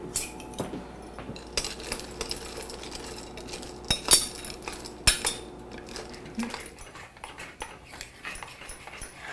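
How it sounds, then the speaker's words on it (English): A spoon stirring chocolate melting in a bowl for dipping strawberries, with repeated light metallic clinks and scrapes against the dish, close up and irregular, no talking. "So let's start stirring our chocolate."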